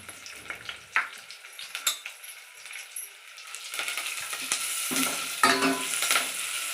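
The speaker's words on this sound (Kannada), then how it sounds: "ಕರಿಬೇವು ಜೊತೆಗೆ ಖಾರ ಹಾಕ್ತಾಯಿದ್ದೀನಿ. ಹಸಿ ಎಣ್ಣೆಯಲ್ಲೇ ಇದು ಖಾರ ಕೂಡ ಎಣ್ಣೆಯಲ್ಲೇ ಸ್ವಲ್ಪ ಫ್ರೈ ಆಗಬೇಕು" Curry leaves and chilli powder go into oil for buttermilk sambar. It starts quiet, with scattered pops and taps, then builds into a louder, steady sizzle with a few utensil clinks, and no one speaks.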